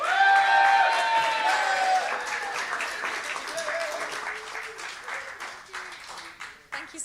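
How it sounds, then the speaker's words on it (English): An audience at a live show at The Bedford claps as a performer is welcomed to the stage, strong at first then thinning into scattered claps, with tonal sounds and voices running underneath. "I wish you to exert that right now in your applause"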